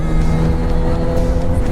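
A freshly fully serviced motorcycle ridden along a road toward Kaybiang, with a steady, close engine drone and constant wind rush.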